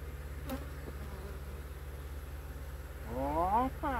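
Steady insect buzzing from a mass of honeybees at a hive, close and continuous, with a faint voice rising briefly near the end.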